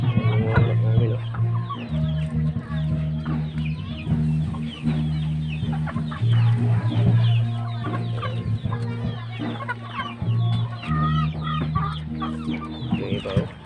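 Chickens clucking steadily on a rural Philippine poultry farm, several hens close by with overlapping calls and a continuous low hum underneath throughout.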